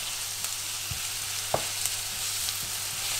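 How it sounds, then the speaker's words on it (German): Tempeh, spring onions and vegetables frying in a pan, a steady close sizzle broken by a few clicks and scrapes of stirring, with no talking. "Das muss jetzt alles ein bisschen anbraten"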